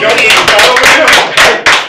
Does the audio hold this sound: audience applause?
yes